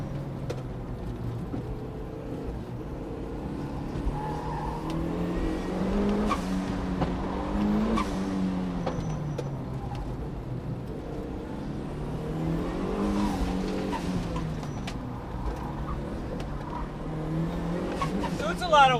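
A turbocharged Mazda Miata is driven hard around a track in hot weather, its engine rising and falling through repeated revving and downshifts, with brief tire squeal, while a driver talks over it.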